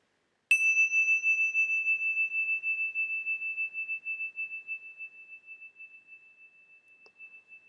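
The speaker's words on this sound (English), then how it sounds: "from the sound of the bell" A meditation bell is struck once and rings out with a clear, pure tone that slowly fades over several seconds in an otherwise silent room.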